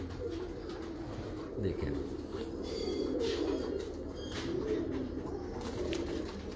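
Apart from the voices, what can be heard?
dub fancy pigeons cooing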